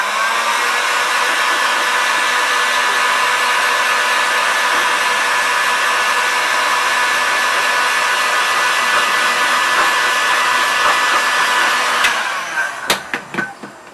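A hair dryer blows steadily to quickly dry paint before the sides are painted, a loud constant whooshing hum that runs alone for about twelve seconds before switching off, followed by a few sharp knocks.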